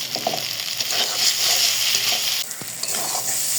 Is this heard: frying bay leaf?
yes